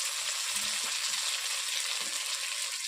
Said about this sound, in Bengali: আমি তেল রেখে দিয়েছি বড় ভাজার জন্য